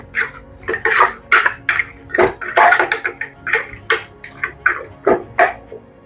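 Pork and Kashmiri chili powder are mixed in a pressure cooker pot, giving a steady run of close, wet clanks and scrapes of a spoon against metal with no talking.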